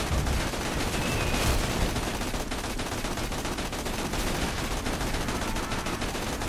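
Rapid automatic gunfire from a weapon in the co-op shooter Borderlands 2, a dense, loud, continuous burst of shots that never lets up across the whole stretch.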